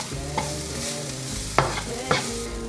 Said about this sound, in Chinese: 赶快翻炒，把调味料炒匀炒香